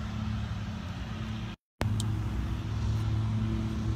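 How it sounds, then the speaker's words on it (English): A truck loaded with volunteer-made animal enrichment and pumpkins rumbles steadily at close range outdoors at a big cat rescue, its engine a low continuous drone broken by a brief dropout. "There comes the truck loaded down with enrichment that the volunteers made."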